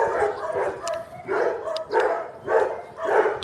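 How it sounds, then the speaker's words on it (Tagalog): A dog barks repeatedly nearby, about six sharp barks in an uneven rhythm, with short pauses between them and no other sound. "ingay ng aso."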